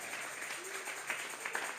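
A church congregation's applause offered to God makes a dense, steady wash of clapping, moderately distant, with a faint voice briefly audible beneath it.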